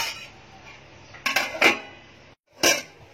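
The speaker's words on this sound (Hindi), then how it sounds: "अब इसको ढक के रखूंगी।" A lid is set onto a cooking pot of eggplant in a home kitchen, giving a few quick metallic clinks and clatters close by with short quiet gaps between them.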